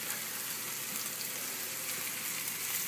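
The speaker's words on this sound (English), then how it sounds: "what we got is our mushrooms for the bordelaise. We're just going to start cooking those" Mushrooms for a bordelaise sauce sauté in a pan, giving off a steady, dense sizzle that carries alone and evenly throughout.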